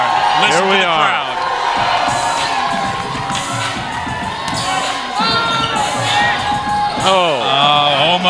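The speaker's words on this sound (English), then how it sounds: "Listen to the crowd." Crowd at a Bellingham Slam versus Vancouver Volcanoes basketball game in a gym, loud and sustained cheering with shouting children and whoops, swelling near the end while a commentator talks over it.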